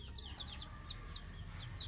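Healthy, normally growing backyard chickens clucking and chirping in quick, repeated calls, fairly close over a steady low background rumble, with no talking.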